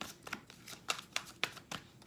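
Tarot cards being shuffled during a reading, a short run of soft, quick riffling bursts and card taps, close and quiet.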